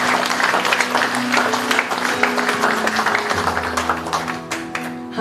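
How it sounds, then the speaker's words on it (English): A church congregation at a revival, healing and deliverance service in Auckland claps for Jesus, with dense, lively handclaps throughout and sustained tones from instruments or voices underneath. "Let's hear a clap for Jesus."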